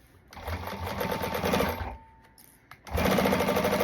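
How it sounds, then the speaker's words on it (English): A Juki 1541S sewing machine stitches fabric in two loud, fast, steady runs of mechanical chatter separated by a short pause with faint handling noises. "I am sewing on a Juki 1541S."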